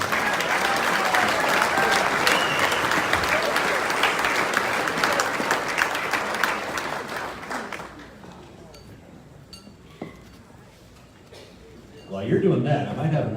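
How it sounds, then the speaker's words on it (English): Loud, dense applause from a banquet audience at an agricultural appreciation dinner honoring award winners, sustained for several seconds before fading, then a voice speaks over the room. "One more time, big round of applause."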